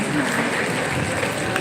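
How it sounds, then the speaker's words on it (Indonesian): Crowd applause at an Islamic boarding school gathering in West Sumatra, a brief, dense burst of many hands clapping, steady and fairly loud with voices mixed in. "Tepuk tangan sekali lagi."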